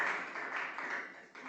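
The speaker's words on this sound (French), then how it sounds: "Applaudissements mesdames et messieurs" Studio audience applause at the close of a French parody talk show, a steady wash of clapping from a crowd, fairly faint and continuous for the whole moment.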